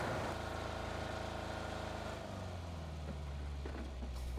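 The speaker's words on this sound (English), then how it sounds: "Did you say you hear a car?" A video game car engine drones steadily throughout, with a low, even hum that shifts to a deeper pitch partway through; no voices are heard.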